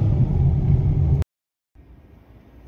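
A 2017 Hyundai Elantra with an automatic gearbox runs with a steady, low engine hum for about a second. It cuts to silence, then a quieter, fainter rumble returns.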